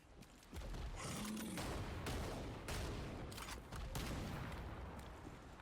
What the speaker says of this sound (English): All right, let's go Shotgun Rapid Fire.